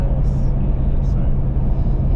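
A car cruising along a rural road in outback Western Australia near Karijini, its low engine and road rumble a steady, close drone that continues without a break under a voice.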